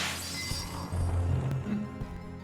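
A stained glass knight shatters in Castlevania 64, a brittle breaking crash over low droning game music, with a couple of sharp clinks near the end.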